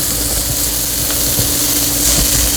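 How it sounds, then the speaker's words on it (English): A ball of burger meat sizzles loudly in tallow on a Blackstone griddle, a steady close hiss with small pops throughout and no talking. "Drop a ball down. Get a little sizzle."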